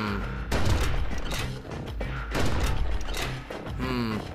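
Musket shots in Bastion crack out in a quick series of loud, punchy blasts, several spaced across a few seconds against game music, with faint voices mixed in.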